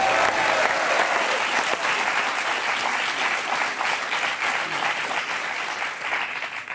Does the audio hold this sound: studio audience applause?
yes